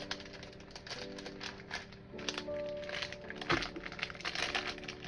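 A paper-wrapped parcel holding two canvases is opened up close, giving soft crinkling, tearing and crackling paper sounds in irregular bursts, with a faint steady hum underneath.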